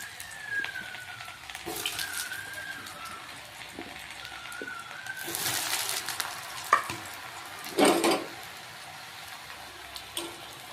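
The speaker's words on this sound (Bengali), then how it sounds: "সিদ্ধ আলুগুলোকে কর্নফ্লাওয়ারের মধ্যে রেখে তেলে ছেড়ে দিচ্ছি।" Boiled potatoes coated in cornflour drop into hot oil in a kadai, sending up a steady, quiet sizzle with brief louder bursts of spattering and a few clinks, and no talking.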